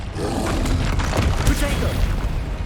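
A Bombarda blast spell bursts in Hogwarts Legacy combat, a dull booming impact rumbling under steady game noise and voices for under three seconds.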